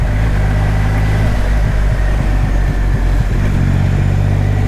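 A Triumph Rocket 3 R motorcycle accelerates hard. Its engine roars loud and steady, with brief dips in pitch as the gears shift.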